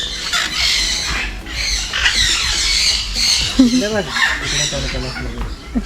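Loud, harsh parrot squawks repeat through the clip at a bird park, with clucking and a bit of talking in the background.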